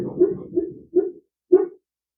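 A dog gives four short muffled barks or woofs, the first two quick and grouped, then two more spaced apart, close by and moderately loud, ending in silence.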